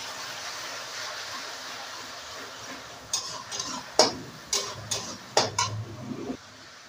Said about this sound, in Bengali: পেঁয়াজ বাটাটা ভালো করে নেড়ে নেবো।